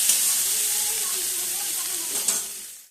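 Katla fish curry sautéing with spices in a hot pan, a loud, steady frying sizzle and hiss close up, with occasional stirring scrapes and a faint voice underneath before it cuts off.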